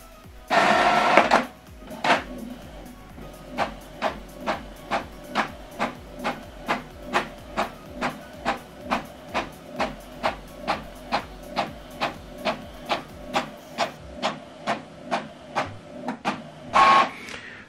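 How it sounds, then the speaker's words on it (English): An Epson WorkForce printer pulls a page back in to print the reverse side, making a long run of evenly spaced mechanical clicks and whirs, with louder motor bursts at the start and end, close and steady, with no voices. "So it's going back in to print out the other side."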